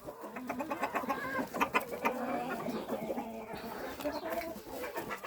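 Australorp hens in a coop cluck and murmur steadily, several birds close by with overlapping soft calls, and a brief spoken remark mixed in.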